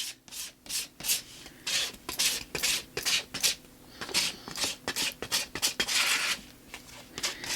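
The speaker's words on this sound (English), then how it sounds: "So I'm just continuing to scrape through it, and I kind of clear off my palette knife and move that around." A palette knife scrapes repeatedly through paint on collage paper, making quick, close rasping strokes in an uneven, continuous rhythm.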